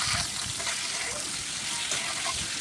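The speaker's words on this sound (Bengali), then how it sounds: "মুরগির চামড়াটা ছেড়ে দেবো।" Chicken skin frying in a pan of hot oil with whole spices, a steady close sizzle and crackle that holds at an even level across the short stretch, with no talking.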